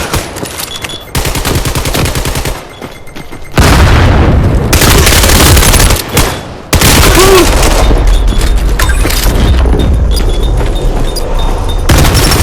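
APC9 Pro fire in the virtual reality shooter Vail VR, loud close bursts of rapid automatic shots broken by brief pauses, with sharp booms mixed in.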